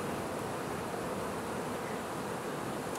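Many honeybees swarm around a frame lifted from an opened hive outdoors, a dense, continuous buzzing drone close by and fairly loud, with no voices.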